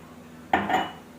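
Half a cup of sugar pours into a pan of browned vermicelli, giving one short, close scattering clatter against the metal that fades within a fraction of a second.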